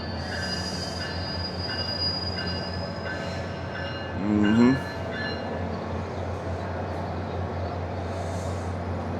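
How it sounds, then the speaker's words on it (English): A SunRail commuter train rolls through the downtown Orlando central station, a steady rail rumble with a brief sharp wheel squeal near the middle while a person talks nearby. "So we're seeing a Sunrail train come through right now."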